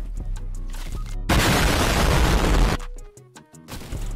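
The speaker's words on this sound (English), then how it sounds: "This guy just shot at me." Gunfire in the video game Fortnite, a loud dense burst of shots and booming impacts lasting about a second and a half, then sharper scattered hits over game music.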